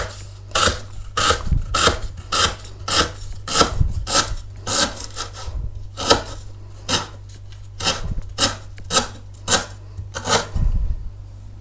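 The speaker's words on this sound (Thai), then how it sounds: "ซอยตะไคร่เป็นสินน้อยๆค่ะเพื่อจะได้ไปโขลกเพื่อจะได้แหลกไว้นะคะ" A knife slices lemongrass into small pieces on a cutting board for pounding, each cut a crisp, close chop in an uneven steady rhythm, about two dozen strokes over a low constant hum.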